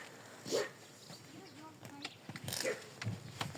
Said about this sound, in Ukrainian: Люди проходять і він говкає.